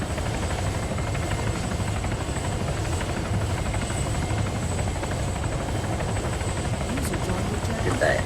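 A helicopter in the video game Arma 3 (Altis Life) whirs loudly and steadily with a constant rotor thrum, while a voice talks over it.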